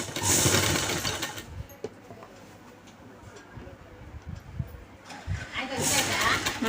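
A sewing machine stitching the side cut of a chudidar top runs in two bursts, at the start and near the end, with a quieter stretch between; it sounds close and steady.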